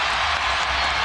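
Arena crowd roaring at an NBA basketball game between the Philadelphia 76ers and Detroit Pistons, a loud, unbroken wall of cheering noise filling the whole moment with no voices distinct above it.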